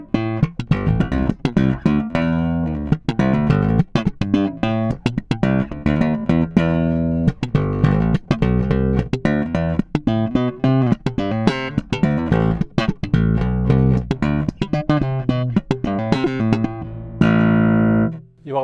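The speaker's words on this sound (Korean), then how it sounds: "프론트 슬랩 톤 들어보도록 하겠습니다." A Sandberg California II VT5 bass played slap style on the front pickup gives a rapid run of percussive thumps and pops, with a warm, rounded low end. The bass is heard alone and up close, with no talking.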